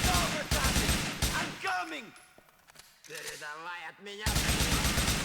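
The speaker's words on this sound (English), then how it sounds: "headshot with an AKM, that's going to hurt" AKM rifle gunfire in Grand Theft Auto IV: loud rapid bursts of automatic shots at the start and again at the end, with a quieter stretch of game sounds and speech in between.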